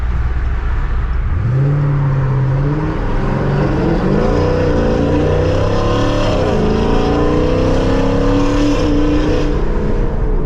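A Dodge Challenger fitted with a cammed 426 Hemi V8 drives on the street, its deep engine note loud and close as it revs up, shifts and pulls steadily through gears for the whole stretch.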